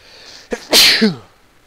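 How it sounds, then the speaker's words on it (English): One loud sneeze comes from a man playing Factorio, with a short sharp intake of breath followed by a forceful explosive burst and a brief trailing voiced tail, heard close and alone. "I want to sneeze."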